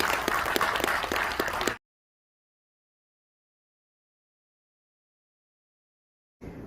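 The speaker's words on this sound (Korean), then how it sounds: "다시 한번 뜨거운 박수 부탁드립니다" An audience claps warmly for a museum director after a policy talk at a Korean private museum association event. It is a dense, steady applause for under two seconds, then it cuts to silence, and faint sound returns at the very end.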